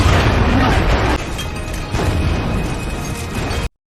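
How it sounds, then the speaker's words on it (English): Ignited fuel explodes in a film scene, a loud, dense roar of blast and crashing debris that drops in strength partway through, holds for a few seconds and then cuts off abruptly. "Morgan then ignites nearby fuel, causing a massive explosion"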